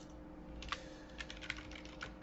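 Typing on a computer keyboard during a JavaScript programming lesson: a handful of separate, crisp key clicks at an uneven pace over a steady low background hum, with no talking.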